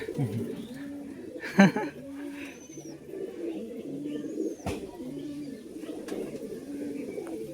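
A golden-eyed male pigeon coos while held in the hand, giving rhythmic low rolling coos at close range, with one sharp handling noise early on.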